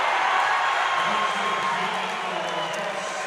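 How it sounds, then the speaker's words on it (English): A basketball crowd in a gym roars and cheers after a basket, a dense, sustained wash of voices that fades slightly toward the end. "And the crowd noise says it all."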